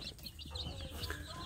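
Village chicks, young and already somewhat grown, peep in a steady chorus of high, thin chirps close by, with occasional soft clucks from the flock and no talking.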